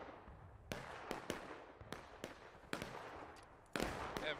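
Scattered musket shots from an infantry line firing at will in the War of Rights video game, sharp cracks at irregular intervals, some close and some farther off, ringing out alone.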